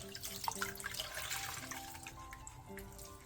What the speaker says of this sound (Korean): 데친 배추는 바로 찬물에 헹군 뒤 물기를 꾹 짜서 준비해주세요.